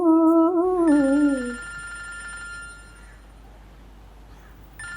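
A phone's electronic ringtone warbles loudly for about a second and a half, then stops, leaving a quiet background hum.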